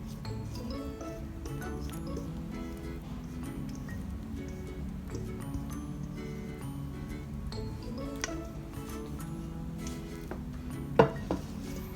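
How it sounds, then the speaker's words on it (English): Thick carrot cake batter is poured into a prepared cake pan, giving soft, wet squishing and slopping sounds with occasional light metallic clinks of the pan and utensil, close and quiet, no talk. "I'm pouring in the batter now."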